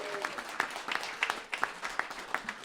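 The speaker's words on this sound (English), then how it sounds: "Can you give yourselves a round of applause for being awesome?" A small studio audience of radio station members claps in a room, scattered individual claps forming brief, fairly close applause.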